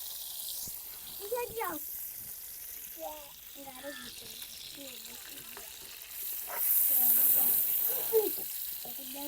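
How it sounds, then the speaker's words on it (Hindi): Butter sizzles in a frying pan for a saag tadka, a steady crackling hiss that swells louder partway through while someone talks over it. "तो अभी ना मक्खन डाला है मैंने फ्राई पैन में, और अब हम इसमें ना डाल देंगे साग।"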